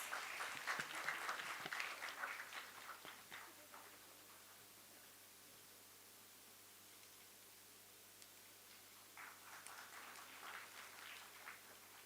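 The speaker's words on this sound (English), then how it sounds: "Please have a huge round of applause for our guests who have joined us." An audience at a lawyers' parliament festival session gives applause, a burst of clapping that fades after a few seconds, then a quiet stretch before a second, softer round of clapping.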